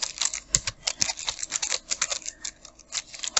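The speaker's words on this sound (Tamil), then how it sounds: "அதை வந்து நம்ம இப்போ டைப் பண்ணிவிடுவோம்." Someone types text on a computer keyboard while designing a logo in Photoshop 7.0, producing rapid, irregular, close-up key clicks with a few sharper taps and no talking.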